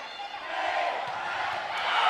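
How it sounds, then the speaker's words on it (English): Crowd noise fills a high school volleyball gym, a continuous broad murmur of many voices at moderate level with a few faint thumps beneath. "Had Anthony turn the crowd noise down"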